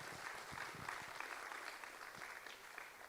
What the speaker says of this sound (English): Give our opening presenters one more round of applause